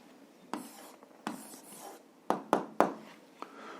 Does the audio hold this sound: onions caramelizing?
no